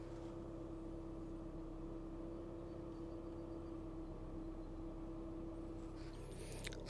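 A Mazda 6 car engine idles quietly, a faint steady hum with a constant low tone running evenly throughout, with no talking.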